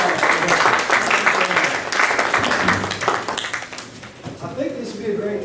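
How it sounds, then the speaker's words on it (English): Audience at a birds of prey raptor show clapping in a sustained, fairly loud round of applause that thins out toward the end, with a voice speaking faintly underneath. "let's give Joanna another big round of applause."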